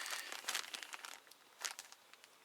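A plastic bag holding a model locomotive crinkles and rustles as it is handled, quiet close crackles in short bursts that fade toward the end.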